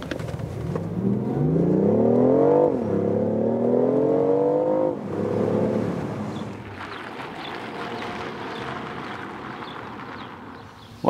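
A BMW i8 Roadster, a plug-in hybrid sports car, accelerates hard, its engine note rising loud and close through two climbing gear pulls before settling into a steadier, rougher drone with road noise.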